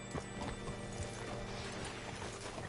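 Horse hooves in Red Dead Redemption 2 clip-clop at an unhurried walk, a rhythmic clatter alongside faint mechanical creaks and rattles.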